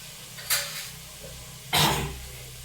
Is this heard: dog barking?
no